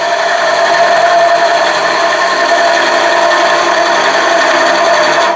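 A skew chisel makes a peeling cut on spinning wood on a lathe, giving a loud, steady, high-pitched shaving hiss over a continuous motor hum with no pauses.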